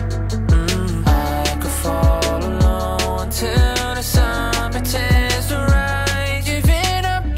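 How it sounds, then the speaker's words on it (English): A song plays with a punchy, steady bass-drum beat and layered synth melodies, loud and upbeat, with no speech over it. "This next tune, it's a brand new track"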